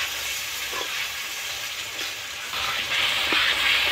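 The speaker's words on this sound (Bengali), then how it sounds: "এই গ্রেভিটাই আস্তে আস্তে ধরে ধরে ভালো করে ভাজতে থাকছি" Mutton curry gravy frying in oil in a pan, a continuous hissing sizzle with occasional soft stirring knocks, growing somewhat louder and brighter toward the end.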